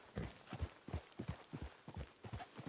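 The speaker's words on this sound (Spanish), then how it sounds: "Es un caballo." Horse hooves clip-clop steadily in a ranch role-play video game, a brisk, evenly spaced walking rhythm of dull knocks, close and clear with no talk over it.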